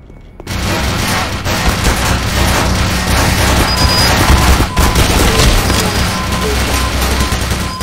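Sustained gunfire pelts a barrel carried as a shield in the game Black Mesa, a dense, loud barrage of shots and impacts running almost without pause from start to finish.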